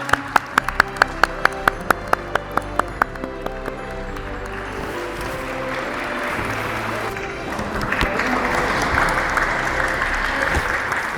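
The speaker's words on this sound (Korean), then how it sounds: "박수 부탁드립니다." A few steady hand claps lead into broad applause from a crowd at a workplace safety contest, which swells louder toward the end.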